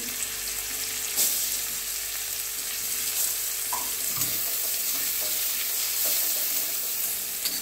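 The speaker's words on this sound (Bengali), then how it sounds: "এই বেরেস্তাটা একটু লাল লাল করে ভাজবো" Sliced onions frying into beresta in a pan make a continuous close sizzle, with occasional stirring scrapes and light knocks over the steady crackle, no talking.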